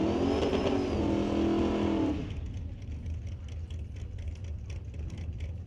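A Camaro race car roars hard under acceleration at drag racing qualifying, loud and close for about two seconds, then drops away to a lower, more distant engine rumble.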